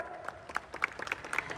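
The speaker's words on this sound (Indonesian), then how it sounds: "Boleh kita berikan tepuk tangan yang paling meriah sekali lagi untuk Wuling Motors?" Scattered, fairly faint clapping from a small audience at a motor show launch for Wuling Motors, individual claps distinct rather than a full ovation, lasting under two seconds.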